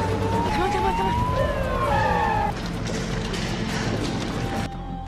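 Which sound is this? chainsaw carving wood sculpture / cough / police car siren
police car siren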